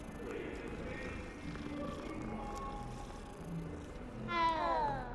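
A cat in the Hogwarts Legacy video game gives one clear, rising meow near the end, standing out over soft, layered game ambience with faint tonal music.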